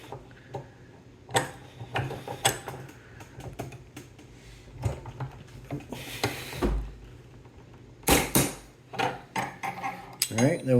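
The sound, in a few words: torque wrench tightening and breaking loose AR-15 barrel nut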